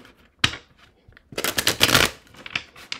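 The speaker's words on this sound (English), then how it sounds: "they just told me to shuffle" Tarot cards are shuffled by hand in short bursts: a quick riffle, a brief pause, then a longer run of rapid flicking and slapping cards, close and crisp, with no talk.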